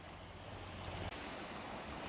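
Water runs through Chenevis Creek by a deep hole, making a steady broadband rush that carries evenly from start to finish with no voices.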